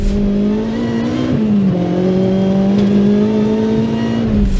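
A supercharged Honda K24 engine in a DC5 Integra Type R, with an M90 Roots-type belt-driven supercharger on 9 psi boost, revs steadily with a strong low drone, pitch dipping briefly then holding, close and loud throughout with no talk.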